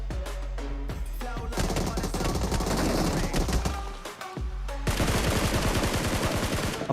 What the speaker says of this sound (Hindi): बंदे ऊपर से हमला कर रहे थे, तभी मेरी गन सिंगल पे शॉट हो जाती है।